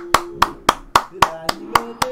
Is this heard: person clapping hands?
yes